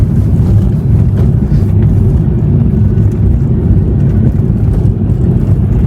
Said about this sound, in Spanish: ¿Ese helicóptero qué trae? Ahorita andaba despegando.